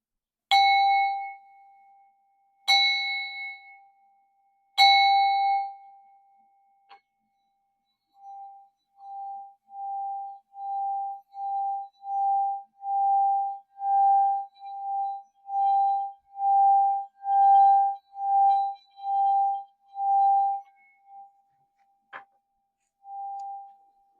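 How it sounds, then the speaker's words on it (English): Three bright struck rings with clear decaying tones, then a long singing hum that pulses steadily, swelling louder and fading, followed by a final strike. "Today I have my sound bowl. We're gonna be ringing it."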